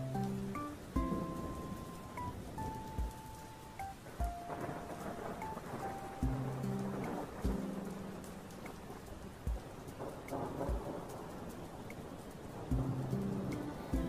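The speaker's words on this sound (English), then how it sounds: "headed outside to enjoy the rain" Steady rain with rolling thunder in the Toca Boca video game, a continuous patter and rumble under faint background music.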